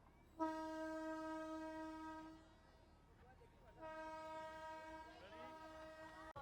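Darjeeling toy train arriving at Batasia Loop gives two long, loud horn blasts separated by a short gap, with faint voices nearby.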